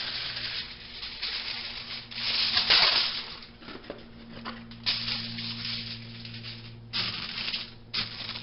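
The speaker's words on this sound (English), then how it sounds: "grab me some aluminum foil." Aluminum foil is pulled, torn and crumpled by hand in a guitar repair workshop, making close crinkling and rustling bursts that swell and fade in uneven pulses, with no talking.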